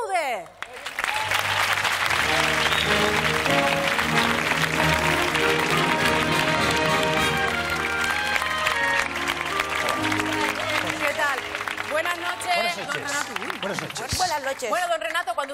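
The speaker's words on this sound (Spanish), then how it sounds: "Vamos a recibir con un aplauso enorme a don Renato Lizpude." A big studio audience gives a long, loud burst of applause to welcome a guest, sustained and dense for about ten seconds before tapering, with music and cheering mixed in.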